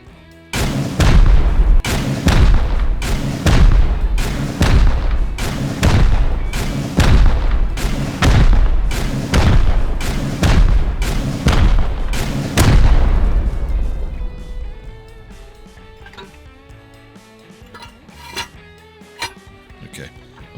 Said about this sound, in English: So let's get the rockets going.